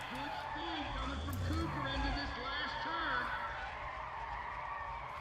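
Tires squeal and skid as a car drifts in the racing game Need for Speed ProStreet, with wavering screeches over a steady engine roar throughout.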